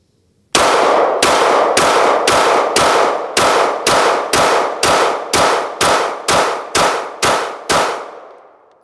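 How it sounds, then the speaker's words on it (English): A ported CZ P-10C pistol fires 147-grain jacketed hollow point rounds in a steady string of about fifteen loud, sharp shots, each with a short ringing decay, ending in a fading echo with no talk. "I'm just going to put the jacketed hollow point 147 through there, not shooting at anything, just to see how it mitigates the recoil with your carry ammo"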